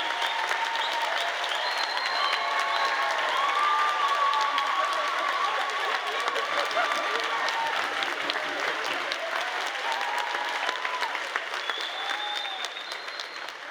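A sustained round of applause from a large commencement audience, steady and dense throughout, with faint whoops and cheers mixed in, gradually easing toward the end.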